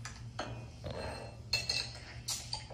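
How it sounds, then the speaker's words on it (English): Ice clinks into a glass, then a gin bottle is opened and gin is poured, heard as a few faint, close glassy knocks and clinks separated by brief pauses. "That's the ice. Opening the bottle, pouring the gin."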